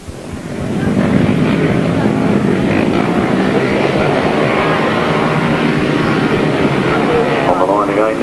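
Several grasstrack racing motorcycles rev hard together on the start line at a 1993 meeting, a dense, continuous engine roar with wind buffeting and commentary-like speech mixed in.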